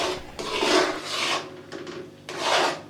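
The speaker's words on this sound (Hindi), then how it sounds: "हम इसमें थोड़ी देर चम्मच इस तरह चलाते रहेंगे।" A metal spoon scrapes and stirs thick milk semolina halwa in a pan with the heat off. Close, gritty rasping strokes come in three or four uneven sweeps. No one talks.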